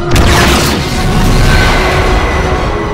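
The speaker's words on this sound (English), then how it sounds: "Prepare to launch photonic torpedoes." A photon torpedo launch explodes in a Star Trek Enterprise video game: a loud, deep, sustained boom with a rumbling blast that fills the whole moment, with no voices.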